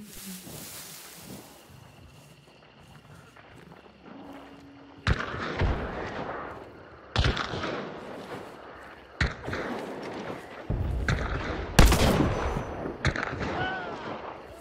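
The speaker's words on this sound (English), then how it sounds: "I was shooting at that guy." Gunfire in a first-person shooter video game: a series of loud, sharp shots and bursts, each separated by a few seconds, after a quieter, muffled stretch.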